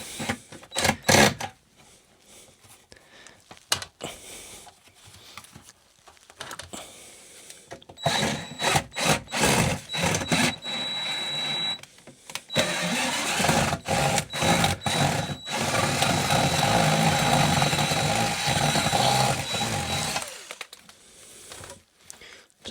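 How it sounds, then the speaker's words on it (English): Power drill backing out old, worn screws during a DIY subwoofer build, whirring in short bursts and then a long sustained run with a steady tone, close and loud, separated by quieter pauses. "Some of the old screws are so bad that it's simply better to take them off."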